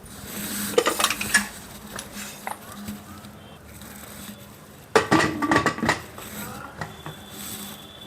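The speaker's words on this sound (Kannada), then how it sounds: "ಇವಾಗ ಕುಕ್ಕರ್ ಲಿಡ್ನ ಕ್ಲೋಸ್ ಮಾಡ್ತೀನಿ." A pressure cooker holding vegetable pulao is shut. Its metal lid clanks and rattles in two close bursts of clattering, one early and one stronger later, with quieter kitchen noise between.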